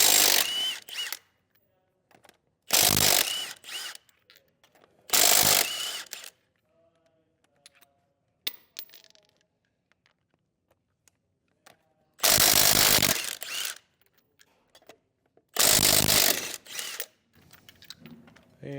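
A 19mm socket on a tool spins off trailer wheel lug nuts in several loud bursts, each a second or so long, separated by quiet gaps with small metallic clinks and handling noises.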